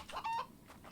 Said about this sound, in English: Come here, Mr. Chicken.